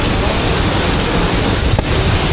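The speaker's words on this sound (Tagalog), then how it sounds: "lakas talaga ng ulan." Very heavy rain from Typhoon Opong pours beside the Marikina River, a loud, dense and unbroken roar with a brief louder gust.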